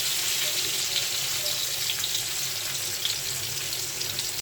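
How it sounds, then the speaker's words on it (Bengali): Loud, constant sizzle of katla fish pieces frying in oil, a dense hissing crackle heard up close and unbroken throughout. "তেল দিয়ে দিলাম এখন আমি মাছগুলো দিয়ে দিচ্ছি"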